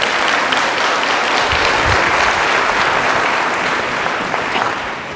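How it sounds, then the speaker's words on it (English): Sustained audience applause fills a university induction ceremony hall, a dense, steady wash of many hands clapping that holds at full strength and eases only slightly toward the end. "If we could give them a round of applause."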